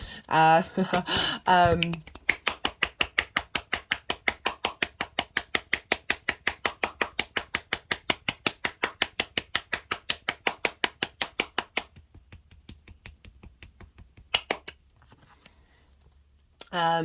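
Tarot cards being shuffled, a long run of fast, even riffling clicks close up, following a brief stretch of talk at the start, then sparser clicks and near silence.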